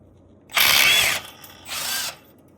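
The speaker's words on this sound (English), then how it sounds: "This is a 5/8 bolt. I'm gonna see if the 1/4" impact gets it." A 1/4-inch impact gun works a 5/8 bolt loose on a 1991 Polaris Trail Boss 250 four-wheeler, giving two short, loud, close bursts of rapid hammering whir, the second one shorter.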